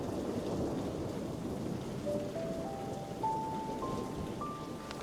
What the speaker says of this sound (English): At least I was, until this storm started